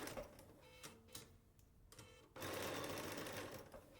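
A sewing machine stitches a curved seam in short quiet bursts, with pauses and small clicks between them, then settles into a steadier, louder run near the end.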